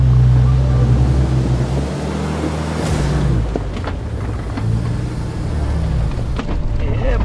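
A 4WD climbing the steepest section of Flats Track, a rough mountain route in Victoria's High Country, with a loud, close engine roar that strains, dips in pitch and surges again under wind buffeting.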